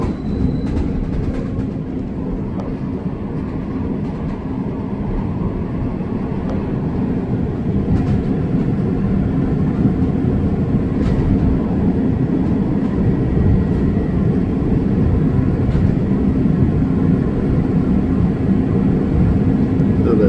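A Chicago train passes continuously at a downtown station near State and Van Buren, a steady loud rumble with faint wheel clatter and occasional squeals, no voices.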